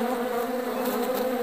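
A bee hums in a steady, close, continuous buzz with a faint wavering tone and no other sound.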